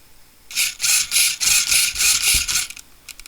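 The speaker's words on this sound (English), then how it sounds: "So I'll just quickly put these screws in now" Screws being driven into a Tamiya TT01 E radio-controlled car chassis, a close series of rapid ratcheting clicks in about eight quick bursts, alone with no talking.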